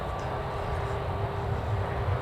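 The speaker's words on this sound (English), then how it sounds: "British Airways is actually taxiing now" British Airways airliner taxiing at Newcastle Airport, a steady low engine rumble and whine held at a constant level throughout, heard from a distance outdoors with no talk over it.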